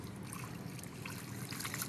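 Water is poured over cucumber seeds planted in a rice husk charcoal and soil mix, a faint, close trickling and splashing that runs steadily for a couple of seconds without talk.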